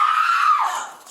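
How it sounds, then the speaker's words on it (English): A 12-year-old girl lets out a single loud, high-pitched scream that holds steady and then trails off, close and alone. "Is it the 12-year-old screaming"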